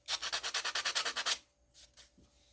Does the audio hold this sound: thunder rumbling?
no